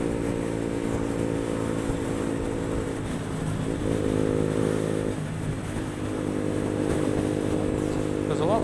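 A motorcycle engine idles steadily nearby, its throttle blipped for a brief rise in revs midway before settling back to a constant rumbling drone.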